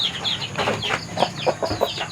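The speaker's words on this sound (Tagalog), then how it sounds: "Mahog mi guys, mamahog og manok." Chickens cluck and chirp while being fed on a farm, a run of short, close, moderately loud calls with no talking.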